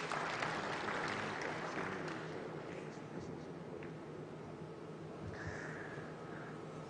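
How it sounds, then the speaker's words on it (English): Audience applause at a national consultative dialogue on small scale mining, a steady, dense wash of clapping that fills the hall and holds at an even level throughout. "Let's give them a resounding round of applause"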